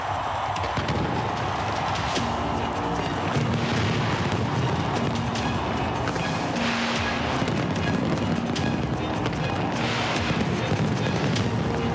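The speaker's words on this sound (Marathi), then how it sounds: "सिडनीतील जगप्रसिद्ध सिडनी हार्बर ब्रिजवरही फटाक्यांची आतषबाजी करत नवीन वर्षाचं जल्लोषात स्वागत करण्यात" Fireworks bursting over the Sydney Harbour Bridge during New Year celebrations, a dense, continuous barrage of booms and crackling pops that roll on without pause.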